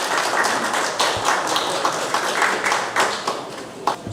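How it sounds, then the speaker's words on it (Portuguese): A live audience at an ethics lecture breaks into steady applause as a professor is called to the lectern, many hands clapping densely and continuously at moderate volume throughout, with no talk over it. "Palmas, por favor."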